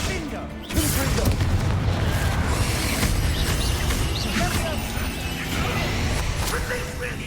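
Confringo spell explosions roar through a Hogwarts Legacy battle, a dense, continuous wash of booms and rumbling crashes with a sudden surge near the start, layered with busy game combat noise.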